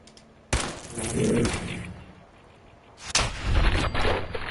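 Bursts of gunfire aimed at a bloodbug hatchling in the video game Fallout 4: two loud volleys of shots, the first lasting about two seconds and the second starting near the three-second mark, with no talk.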